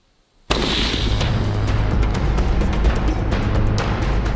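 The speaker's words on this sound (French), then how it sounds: "maintenant, nous pouvons faire le premier tir" A single loud gunshot aimed at a LEGO target hits abruptly after a short silence, followed by a long rumbling, booming tail that stays loud to the end, with no talking.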